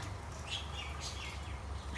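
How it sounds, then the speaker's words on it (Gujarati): Small birds chirp while pecking at sev near a home, high thin tweets repeating a few times over a low steady background hum, fairly faint and with no one speaking. "આવી ગયા છે પક્ષી,"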